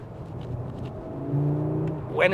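An Audi RS3 engine with upgraded exhaust hums and rises steadily, ending in a sharper rev near the end.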